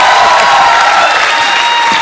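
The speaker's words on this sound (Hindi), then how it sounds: "एक बार तालियां बनती हैं दोबारा।" Studio audience on a comedy talk show clapping and cheering, a dense loud wash of applause that stays steady for about two seconds.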